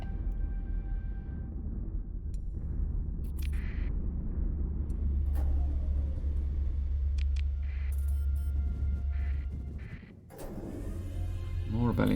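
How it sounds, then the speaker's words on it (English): A spaceship rumbles through storms in the space game Starsector, a steady loud low drone running throughout with scattered electronic tones above, dipping briefly near the end before swelling again. "Just going to blitz straight through these storms."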